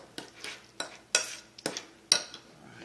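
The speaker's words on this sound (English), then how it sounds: "You want to keep mixing it up." Guacamole ingredients are mixed in a bowl, making a series of sharp scraping and clacking strokes in an uneven rhythm, close and clear with quiet pauses between.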